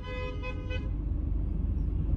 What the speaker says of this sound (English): Who's honking the horn there?